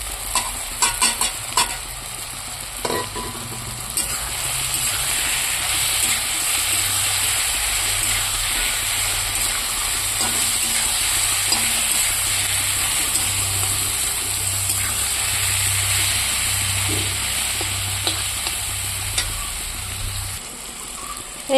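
Spices sizzle steadily in hot oil in a pan while a curry base for pea ghugni is cooked, a constant frying hiss with soft stirring scrapes and no talking.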